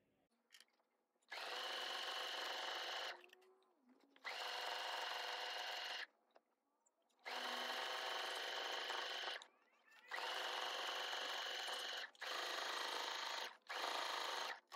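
A sewing machine stitches a seam on a tote bag in five loud, steady bursts of whirring, with short quiet pauses between them and no talking.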